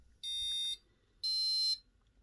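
Two high-pitched electronic beeps from an Arduino passive buzzer, each about half a second long with a short pause between, steady and piercing but at modest volume, with no voices.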